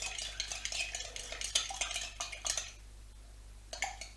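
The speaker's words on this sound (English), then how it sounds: "good stir" A spoon stirs a glaze of granulated sugar and hot water in a small bowl, a quick series of light scraping clinks that stops, then two brief taps near the end, over a low steady hum.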